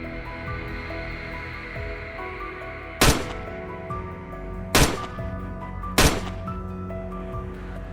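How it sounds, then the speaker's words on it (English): Three sharp gunshots ring out one at a time during a winter wild boar hunt, fired at spaced intervals over a steady outdoor background hiss. "unleashed a rapid barrage of bullets"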